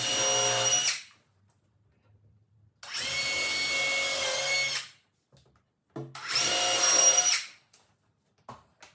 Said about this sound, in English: I used some cabinet screws to attach it